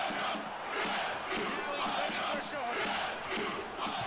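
Pro Evolution Soccer 2013 video game stadium crowd of fans chanting, a dense roaring wash of many voices rising and falling in waves, continuous and fairly distant.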